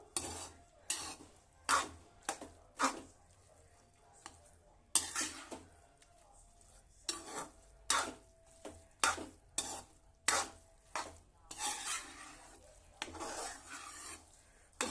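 Green rice made with tomato being stirred in a pan with the stove off, a series of scraping, clinking spoon strokes in an irregular rhythm, close and fairly quiet with pauses between.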